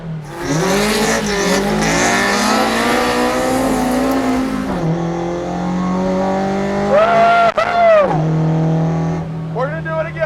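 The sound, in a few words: Toyota AE86 drifting in the rain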